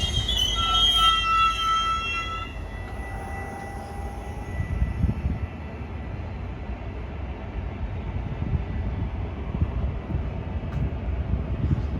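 A train rolls past with loud, high metallic wheel squeals early on, giving way to a steady heavy rumble of rail cars that continues throughout, with no talking.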